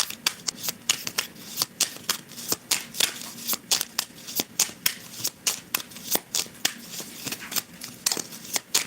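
A deck of cards is shuffled over and over for a card reading, giving close, crisp riffling bursts at a quick, fairly even rhythm throughout.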